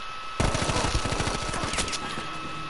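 A submachine gun firing in Battlefield V at Al Marj Encampment. A sudden sustained automatic burst of rapid, evenly spaced shots runs for about two seconds, loud and close, with no talking.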